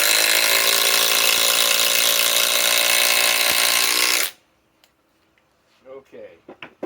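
Flex compact cordless impact driver running on a 3.5 stack battery, a loud steady ratcheting whir for about four seconds that stops abruptly, followed by near silence and faint handling clicks.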